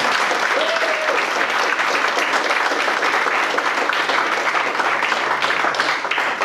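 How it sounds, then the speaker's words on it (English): Crowd applause for two booksellers at an author book event at Busboys and Poets, with steady, moderately loud clapping from a seated audience throughout, a faint tone briefly showing near the start. "Bradley and Abby, give them a big round of applause."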